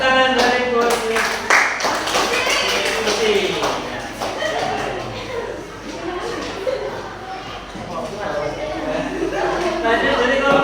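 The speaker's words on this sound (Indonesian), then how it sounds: "tepuk tangan dari kursi" An audience applauds from its seats during a group presentation, a dense spread of many hands clapping at moderate distance, steady for several seconds, with chatter and voices mixed in underneath.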